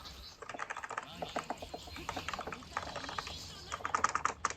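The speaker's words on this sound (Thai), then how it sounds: "เสียงเมาส์ที่กูรัว" Rapid mouse clicking and tapping at a computer during a Genshin Impact game rattles on in quick irregular bursts, close by, with a voice faintly underneath.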